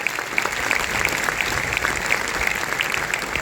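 A full room of people applauds at a coaching institute results celebration honouring 12th science students who scored over 90 percent. The clapping is dense and continuous, loud and even, with no voices on top.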